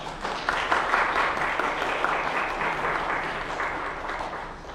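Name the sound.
congregation applauding to welcome visitors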